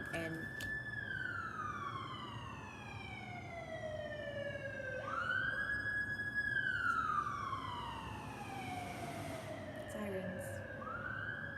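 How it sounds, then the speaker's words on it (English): A wailing emergency siren sweeps up and down in long cycles, loud and close, over a constant rumble of traffic. "sirens."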